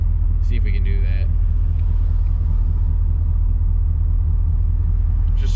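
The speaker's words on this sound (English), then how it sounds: "Just so much traffic right now." Low, steady rumble of road traffic heard from inside a 1988 LS-swapped Firebird with a broken rear end, a continuous engine and road drone with brief voices near the start.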